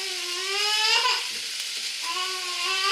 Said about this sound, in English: just the eggs are cooking. And I have that bacon in there